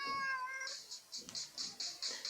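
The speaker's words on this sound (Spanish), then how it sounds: "Dime si tú sabes cómo hace el gato, vamos a escucharlo tú y yo." A domestic cat meows repeatedly in short, bright calls with a steady rhythm, loud and close, with no other sounds around it.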